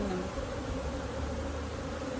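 Honey bees buzz around hive frames, a steady continuous drone holding close and even for the whole stretch with no talk over it.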